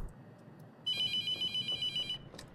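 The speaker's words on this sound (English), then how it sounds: "I'm not answering the phone." A telephone rings repeatedly in The Mortuary Assistant horror game, a bright electronic trill that starts abruptly and repeats in even bursts for over a second, loud and alone against a low ambient hum.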